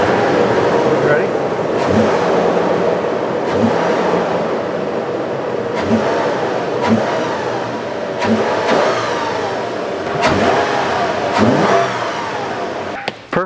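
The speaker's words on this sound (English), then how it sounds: "I'll start it up and rev the engine now." A Toyota 4Runner engine with a newly installed TRD cold air intake revs up repeatedly in loud, surging bursts, rising and falling close by, with some talking mixed in.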